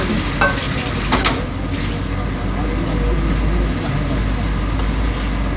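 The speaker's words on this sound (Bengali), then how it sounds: "ভালো করে নাড়াচাড়া করে নেব, ভেজে নেব ম্যাগিগুলো মশলার সাথে।" Maggi noodles frying with spices and stirred in a pan using a makeshift utensil: a steady, close sizzle with scraping strokes, under a constant low hum.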